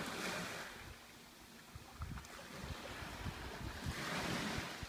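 Waves on a river heard outdoors, a steady washing surge with light lapping splashes near the water, mixed with wind buffeting the microphone.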